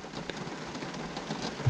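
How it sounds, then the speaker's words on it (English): Steady rain falls with a soft, even patter and light scattered drops, heard as if from inside a car, with a faint thump near the end. "enjoy the relaxing sounds of the rain as it plays that willful tune"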